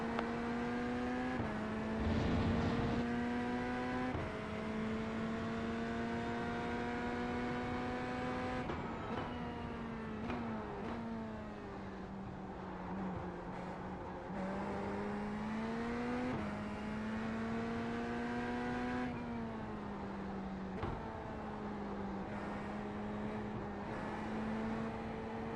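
Race-car engines from the iRacing sim drone and rise steadily, a prototype's tone climbing and dropping through gear changes with brief shifts, continuous and fairly loud with no talking.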